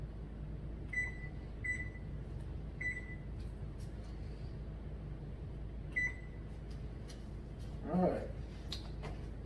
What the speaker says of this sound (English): Looks like my timer's still going.